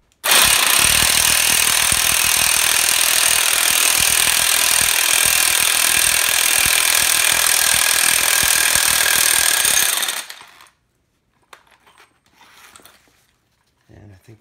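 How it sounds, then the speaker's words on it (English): An impact tool tightens a press to push out a car wheel bearing in a garage, giving a loud continuous rapid hammering buzz for about ten seconds, then stopping abruptly, followed by faint clinks. "Let's go ahead and connect and start tightening it so we can press it out."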